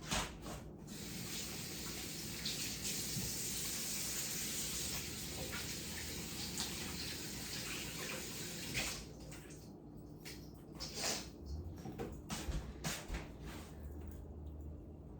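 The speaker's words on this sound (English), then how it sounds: "let me wash my hands" Running tap water pours over hands at a kitchen sink mid-way through preparing meatloaf, a steady rushing hiss for about nine seconds that then breaks into intermittent splashes and light clatter.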